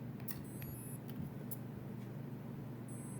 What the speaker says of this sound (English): It said beep, beep, beep, beep. It's kind of quiet, so.